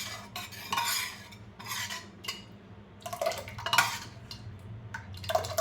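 Garlic, onion, dried chilli, cumin and radhuni tempering in white oil, heard as a soft sizzle under bursts of spatula scraping and clattering against the pot, irregular and close.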